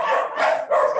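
Dogs barking in quick succession, loud and close, two rough, raspy barks filling the second with nothing else over them.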